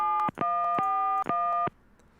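Telephone keypad dialing in the Gabriel Knight adventure game, a series of clear electronic tones in short bursts separated by brief gaps, loud and alone.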